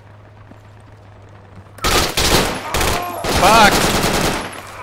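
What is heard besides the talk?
gunfire in the video game Project Reality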